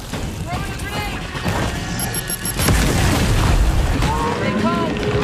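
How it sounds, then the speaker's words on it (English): Grenade blast in a video game, a loud booming explosion landing midway through steady combat noise and swelling into a sustained rumble afterward. "Throwing a grenade."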